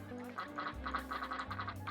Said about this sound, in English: We can make the ducks quack!